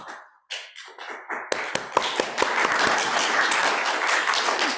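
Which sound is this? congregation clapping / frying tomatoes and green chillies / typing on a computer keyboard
congregation clapping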